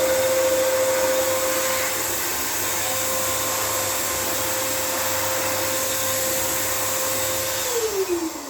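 Air blower blasting leftover dust out of cracks in an aerated concrete wall while primer is applied, a steady loud whooshing hiss with a constant motor whine that drops in pitch near the end.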